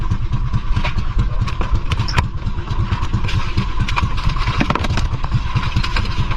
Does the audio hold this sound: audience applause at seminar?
no